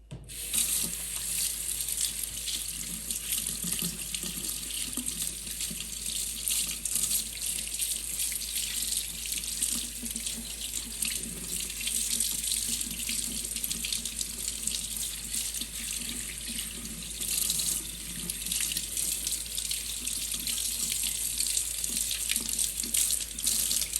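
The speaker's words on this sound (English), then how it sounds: "Okay, let's rinse it off and see how it looks." Tap water running steadily into a sink while a trumpet is rinsed under it, a continuous close hiss and splash with slight variations as the brass is moved through the stream; no talk.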